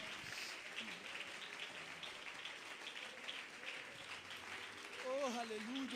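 A church congregation applauds during a Spanish-language sermon, a steady, dense wash of clapping that holds for the whole stretch, with a voice rising over it near the end.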